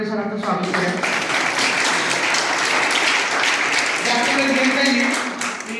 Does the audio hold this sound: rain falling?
no